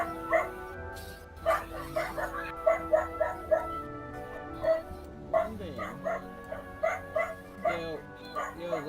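A dog barks and yips repeatedly in short sharp bursts, some whimpering notes between, fairly close and loud, with a person talking during a live gaming session.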